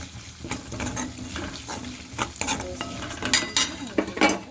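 A spoon stirs ground coriander-cumin and turmeric into a mung bean curry in a pan, with soft sizzling under steady scraping and clinking strokes, no talking.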